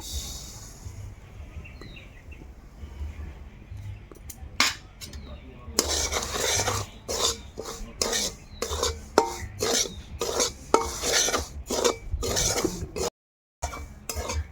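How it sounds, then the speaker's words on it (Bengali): Dry grainy semolina scraped and stirred around a bare metal wok, a rhythmic series of rasping strokes that grows busier after a quiet start. "এবার শুকনো কড়াই একটু নেড়ে চেড়ে নেব"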